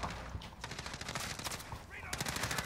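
Call of Duty Modern Warfare gunfire rattles in quick bursts of close automatic shots, a short pause before a fresh burst at the end, with a voice briefly in the mix.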